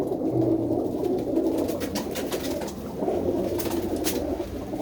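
Domestic pigeons in a fancier's loft coo steadily and softly, overlapping low calls running throughout with no talk.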